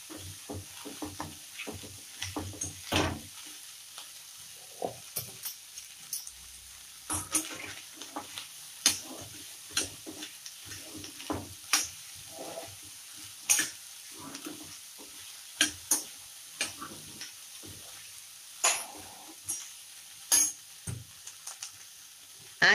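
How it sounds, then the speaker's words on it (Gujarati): Cauliflower frying in a pan after salt is added is stirred with a utensil. Soft sizzling sits under irregular light scraping and tapping clicks spread through the clip, with no talking. "અને આને સરસ હલાવી દઈશું"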